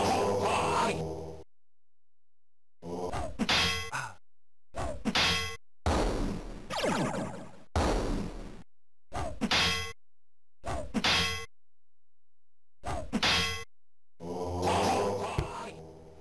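Metallic clangs and whacks of combat and bell-like chimes in the Wizardry 7 video game, coming in short separated bursts with silent gaps between them and no talking.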